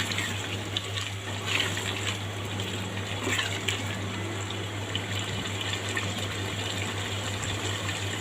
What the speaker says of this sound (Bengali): হাফ কাপ পানি দিয়ে দিলাম